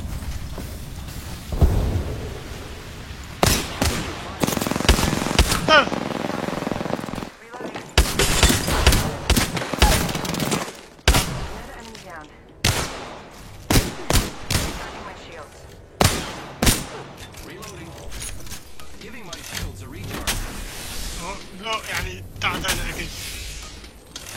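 Bursts of gunfire, some rapid and automatic, crack out loudly in repeated volleys alongside mechanical clatter, with a voice speaking in between the shots.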